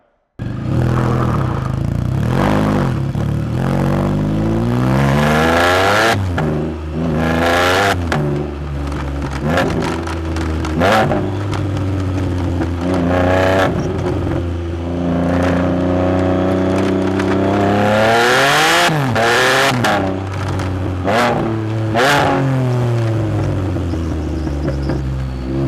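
Exhaust of a Can-Am Spyder three-wheel motorcycle while riding: a loud, continuous engine note that rises and falls with revving and shifting, with a strong low rumble and no voices throughout.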